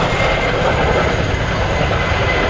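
A Royal Air Force Boeing Chinook HC.6 helicopter, ZH904, flies at the Cosford Air Show 2024, giving a loud, steady, close roar that stays continuous throughout.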